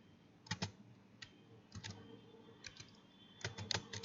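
Someone types on a computer keyboard with scattered, quiet key taps in short clusters at close range, with no voices.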